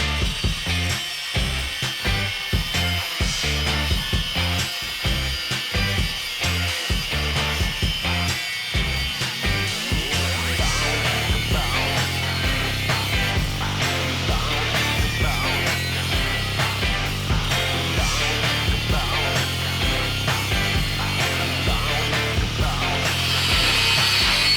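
A power tool cuts through the metal front of a ram mount on an FJ Cruiser hydraulic steering build, a steady loud grinding rasp with choppy pulses early on that smooths into continuous cutting.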